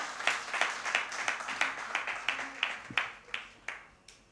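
A sparse audience at a Hindi cultural gathering claps in a slow, regular rhythm, roughly three claps per second, fairly close and moderately loud, with faint murmuring underneath.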